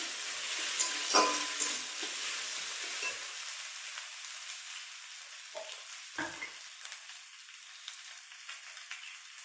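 Fried potatoes being stir-fried with spices for katla fish curry, a quiet sizzle with scattered spoon scrapes and clinks against the pan that grow sparser as the frying settles.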